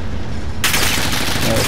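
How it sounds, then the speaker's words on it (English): Rapid gunfire erupts suddenly in a Power Grab shooter match, a loud, continuous burst of shots aimed at the player that fills the rest of the moment. "you're shooting at me already"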